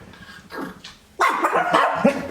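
A dog barks close by, a few sharp barks after a quieter moment, forming a brief loud burst without any talking.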